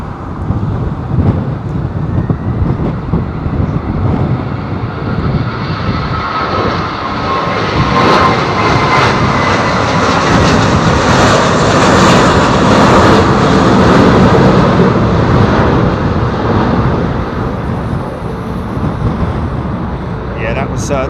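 A large airliner aborts its landing and goes around at London Heathrow in strong wind, its engines a loud, swelling roar that builds and then holds. Gusts batter the microphone, and voices are heard now and then.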